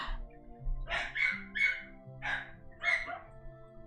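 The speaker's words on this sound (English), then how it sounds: "oh my god, I hate this type of barking." Several dogs bark outside in short bursts, about five or six sharp, high-pitched yips and barks spaced irregularly, moderately close and heard alone without talk.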